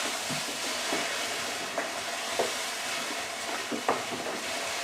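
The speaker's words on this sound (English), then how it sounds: "you just want to make sure you keep stirring and get it all mixed up so everything's nice and wet" Grain for an American single malt whiskey mash is stirred in water, a soft continuous wet swishing with small sloshing bumps every so often, fairly quiet and with no voices.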